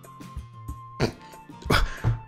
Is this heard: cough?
yes